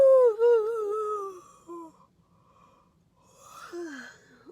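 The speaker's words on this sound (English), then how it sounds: "Oh man, I didn't fully get the yawn out." A long, drawn-out yawn with a rising and falling groaning voice, a short pause, then a second softer yawning breath.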